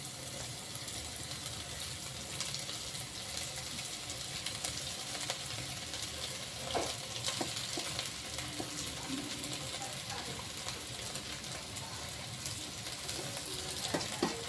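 Cumin and mustard seeds sizzle in hot oil in a pan while poha is being made, a steady dense hiss with faint scattered crackles running the whole time.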